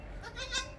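A Gulabi (pink) goat bleats while giving birth, after delivering her first kid: one short wavering nasal cry that is close and moderately loud, heard alone without talk.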